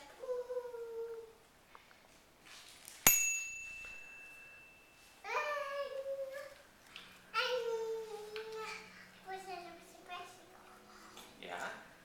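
A child's bicycle bell gives a single sharp ding, bright and close, followed by a faint ringing decay, with a young child babbling and an adult talking nearby before and after.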